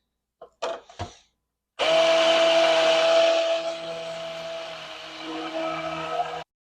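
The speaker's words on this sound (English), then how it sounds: "Let's blend it again." Roasted garlic emulsion sauce being blended: a couple of short taps and clicks, then a loud steady blender whir that drops slightly in pitch and level before cutting off abruptly.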